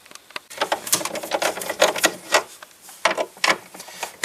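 Metallic clicks and ratcheting taps from a hand tool loosening 8mm bolts on the inner metal panel of a Mercedes R129 tail light, irregular and close, with no talking.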